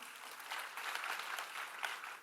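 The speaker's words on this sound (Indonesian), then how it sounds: "Tepuk tangan untuk kita semua, saudara." Congregation at a church service clapping, a faint, continuous, dense patter of many hands heard from a distance with slight swells.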